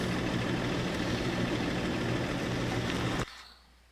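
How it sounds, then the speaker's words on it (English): A heavy truck engine in the Phasmophobia game runs loud and steady with a deep rumble, then cuts off abruptly near the end, leaving near silence. "quit talking when the engine is starting, because it's awfully freaking loud"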